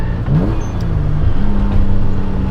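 A 1000 hp twin-turbo Nissan 300ZX engine drones low and steady, its pitch climbing and then holding as it pulls harder in second gear toward 4,000 rpm, loud and close throughout.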